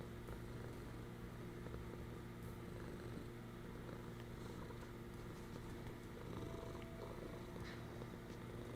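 Steady, faint cat purr from a cat being held, a continuous low rumbling hum with a slightly rough texture running unbroken throughout, with no talk.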